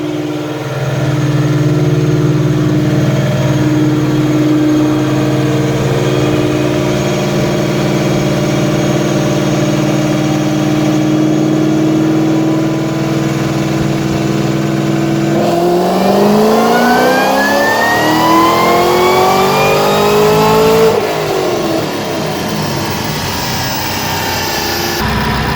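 A Ford GT500 on E85 with a 4R200 transmission drones steadily on a dyno, then sweeps up through a loud rising rev that peaks and drops away, heard alone at close range.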